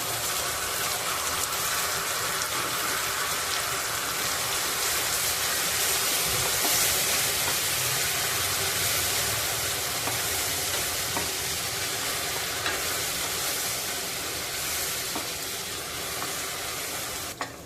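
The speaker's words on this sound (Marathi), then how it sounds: "हे सर्व आपल्याला तेल सुटेसपर्यंत परतायचं आहे" Onion, green herb paste and tomato puree sautéing in hot oil over medium heat, a continuous loud sizzle with faint stirring scrapes throughout, no voices.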